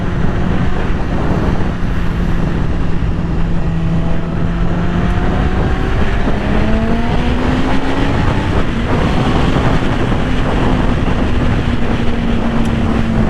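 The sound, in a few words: 2020 Yamaha R6 motorcycle engine while riding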